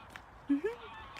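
A bird gives a short, nasal call much like a duck's quack, a brief two-part rising note over a faint, low background hum.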